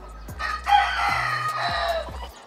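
A pava fighting rooster crows loudly nearby, one long drawn-out call with no other sounds around it.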